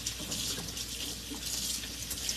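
Water runs steadily from a tap close by while vegetables are rinsed underneath, a continuous splashing stream with faint bumps of handling.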